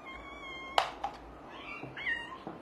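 A house cat meows softly in a quiet room, two or three short, fairly faint calls with small knocks and rustles between them.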